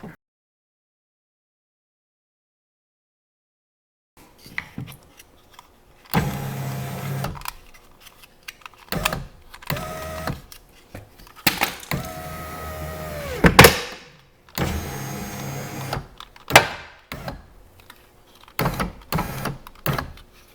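The driver-side power window regulator motor of a Dodge Grand Caravan whirs in repeated bursts, starting and stopping with mechanical clunks and strained grinding, close by after a silent start.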